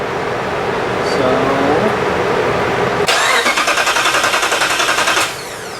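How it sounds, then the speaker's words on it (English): A 2021 Dodge Durango SRT Hellcat rebuilt after a wreck cranks with a rapid, rhythmic starter chatter for a couple of seconds, then falls quiet as a steady hum carries on, following a stretch of mechanical whirring with people talking nearby. "we're going to try to give her a crank and see what happens"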